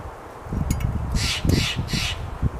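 A crow near a nest built with plastic trash gives about three harsh, close caws in quick succession over a low background murmur.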